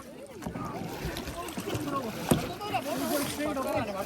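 Kayak paddles splashing water on a reservoir, with intermittent strokes and splatters close by while people talk and call out over light wind noise.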